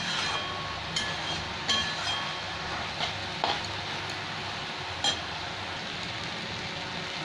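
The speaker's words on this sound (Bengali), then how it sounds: "এরকম নাড়াচাড়া করতে করতে শাকটা একদম ভাজা হয়ে যাবে আমার" Kolmi (water spinach) greens stir-frying in a pan, a steady soft sizzle with a few light scrapes and clinks of stirring spaced through, moderately close and with no voices.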